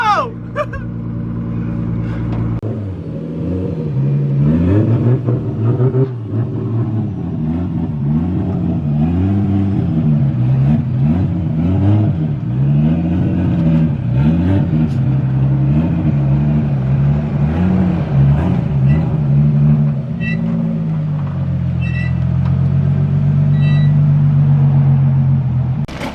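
A freshly built Toyota 1JZ car engine runs with a deep, loud rumble close by, rising and falling through a long series of rhythmic revs before settling back toward a steadier idle.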